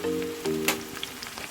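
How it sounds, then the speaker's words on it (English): Diced tomato and Scotch bonnet pepper sauteing in a pan for curry cabbage and saltfish, giving a soft, steady sizzle with faint crackles and a few small pops, close and low in level. "I'm just going to let this saute for a while."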